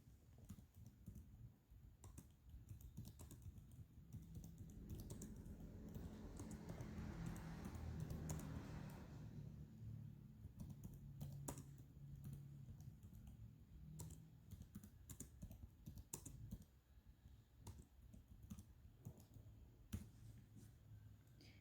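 A computer keyboard clatters softly as a reply is typed into an online complaint-handling form, with many quiet, irregular key clicks running on for over twenty seconds.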